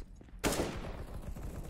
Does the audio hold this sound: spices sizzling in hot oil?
no